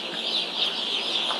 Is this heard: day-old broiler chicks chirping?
yes